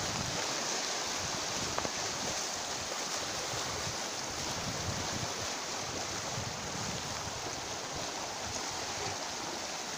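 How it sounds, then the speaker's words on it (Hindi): Water runs out of a small channel in a scenic rural area of Pakistan, a continuous rushing wash that is steady and fairly close, with a light wind-like roar mixed in. "आले के अंदर देखिए ये पानी, आप देखें किस तरह छम छम करके निकल रहा है उधर से"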